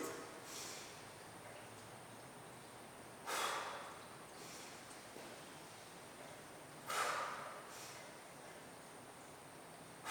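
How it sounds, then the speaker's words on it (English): A woman doing kettlebell squats breathes audibly, with two strong, forceful exhales several seconds apart and softer inhales between them, close and clear over a quiet background hiss. "I'm going to shut up for a minute so she can do 3 reps and you guys can hear her breathe"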